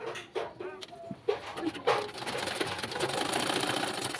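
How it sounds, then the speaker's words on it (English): Sewing machine stitching fabric for a baby girl's jumpsuit, a steady continuous whir building after a few clicks and bumps, with faint bird coos in the background. "So I'm going to be sewing and I will leave an opening in between"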